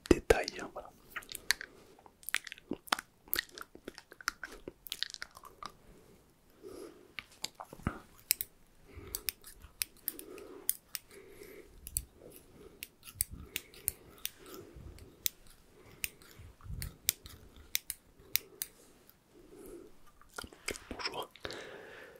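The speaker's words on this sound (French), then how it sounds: "je vais prendre le ciseau un petit peu plus petit pour venir faire les détails" Small barber scissors snip through hair in quick, close, crisp bursts of clicks, repeated irregularly throughout. A low voice murmurs softly in between.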